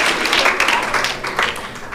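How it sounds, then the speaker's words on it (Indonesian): Audience applause after a school drama performance, a brief burst of dense, fairly loud clapping from a group that fades slightly toward the end. "tepuk tangan dulu dong"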